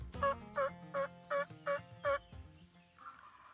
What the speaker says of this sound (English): we can hear a gobbler gobbling up in the mountain